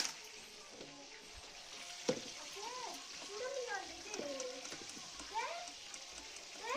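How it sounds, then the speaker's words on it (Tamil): Mutton kola urundai curry gravy with masala bubbling and simmering in a pot, a soft continuous bubbling and sizzling heard beneath a person talking, with a voice in the background. "இந்த பக்கம் குழம்பு நல்லா கொதிச்சுட்டு இருக்குது"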